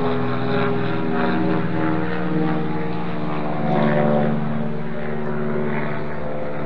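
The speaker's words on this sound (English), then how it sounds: "Boy, this plane is going in low right here." A low-flying propeller plane passing overhead, its droning engine loud and close throughout, swelling slightly as it goes by, with no talk over it.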